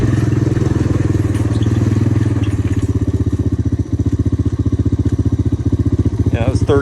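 A Honda ATC 250es Big Red three-wheeler pushing a plow in third gear uphill, its single-cylinder engine chugging loudly and steadily up close with a rapid, even pulsing beat throughout.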